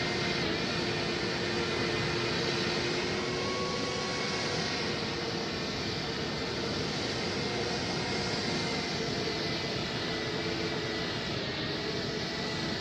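Boeing 727 jet engines roaring steadily through a takeoff roll in a flight video game, a constant dense broadband rumble with a faint whine that holds unbroken and without talk.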